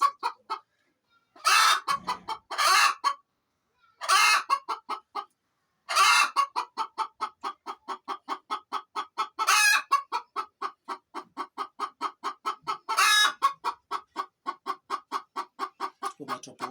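Local chickens clucking close by, with a rapid run of short repeated clucks continuing throughout and several louder, harsher squawking calls breaking in at intervals.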